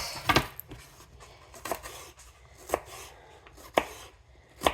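A small onion being chopped on a board for chili: five or six sharp, separate knife strikes, spaced irregularly about a second apart, close and distinct over a low background hum.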